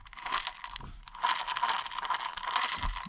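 Close, gritty clicking and whirring as small plastic gears turn in a T-Maxx RC car transmission, in uneven bursts with a crunchy, ratcheting texture.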